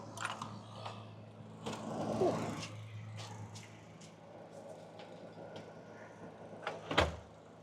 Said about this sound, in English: I opened the door, so a lot of warm air came in.